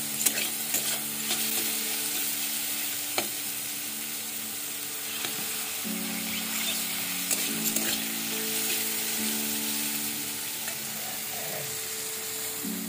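Food frying in a pan sizzles steadily at moderate loudness while a utensil stirs it, with scattered scraping knocks and a faint tonal hum running underneath.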